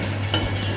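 Sliced chicken breast sautéing with garlic in a pan for pancit bihon, a brief close sizzle with a steady low hum and a light stir, no talking.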